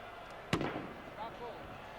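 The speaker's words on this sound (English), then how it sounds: "A few firecrackers still exploding around us from the Spanish fans" A single sharp firecracker bang goes off among Spanish fans in a football stadium during the 1980 Cup Winners' Cup final, Valencia against Arsenal, followed by a brief rumble over low crowd noise.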